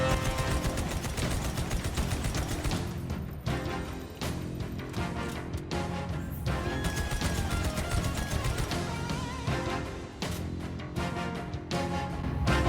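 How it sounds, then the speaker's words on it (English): VK78 gunfire in a Halo: Reach PC mod, built from Halo 2 Anniversary SMG and turret sounds, comes as dense, continuous rapid-fire bursts, loud and close with brief pauses between strings. "uses a mashup of Halo 2 Anniversary's SMG firing sound and"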